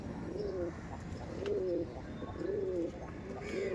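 Rampuri pigeons coo repeatedly in a loft, a series of soft rolling calls recurring about every second, near and moderately quiet over a light background hiss, with no talk.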